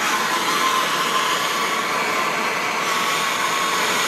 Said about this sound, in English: And I use a map gas torch.